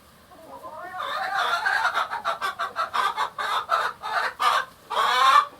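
Chickens cluck around a backyard coop in a rapid, rhythmic series of a dozen or more close, loud clucks, building into an excited burst at the end, with no talking.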